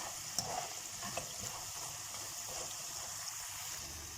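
Potatoes sizzle and crackle in a hot pan, a soft constant frying hiss with a few louder pops and stirring scrapes, faint and close.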